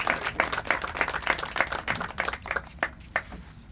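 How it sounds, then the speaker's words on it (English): A modest church audience claps for priests at a diocesan celebration honoring Father Kino, a scattered round of hand claps that thins toward the end, fairly near and moderately loud. "Please give them a round of applause, too."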